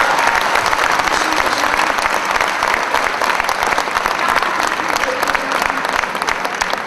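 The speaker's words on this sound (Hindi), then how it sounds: "आप सब ने तालियां बजाई" An audience at a Hindi poetry recital in Hisar breaks into loud, sustained applause, dense clapping filling the hall steadily from start to finish.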